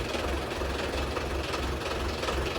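A John Deere tractor's diesel engine chugs steadily at close range, a loud, rhythmic low knocking that stays constant throughout.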